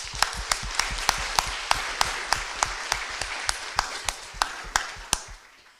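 A conference audience in the Hall of Mirrors claps in steady rhythmic unison, sharp regular beats riding over a dense wash of general applause that carries on for several seconds.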